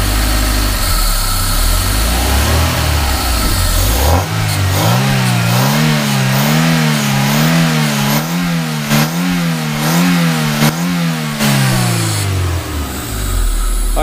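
A Toyota MR2 SW20 engine idles loudly up close, then the throttle is blipped repeatedly, revving up and down in a wavering rhythm before settling back to idle.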